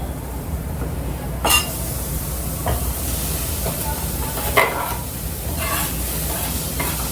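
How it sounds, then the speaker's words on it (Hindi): Dried herbs and other ingredients sautéing in a pan, a steady broad sizzle and hiss throughout with a couple of brief clinks of stirring, close and alone without talk. "अब इसमें जाएगा बाकी सब थोड़ी देर के लिए बस सॉटे करने के लिए"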